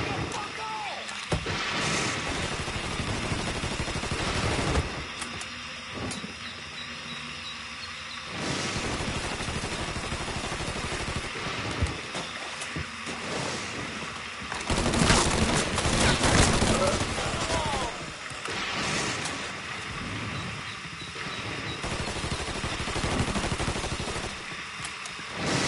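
Sustained gunfire from a Mafia III shootout crackles throughout, with dense overlapping bursts and a louder flurry midway, mixed with game music and a voice talking over it.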